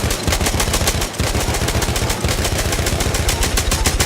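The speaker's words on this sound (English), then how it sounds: "You see, we can almost do this whole magazine without ever needing to stop" Perino Model 1908 light machine gun firing in Battlefield 1, a loud, sustained stream of rapid, evenly spaced shots with only brief breaks.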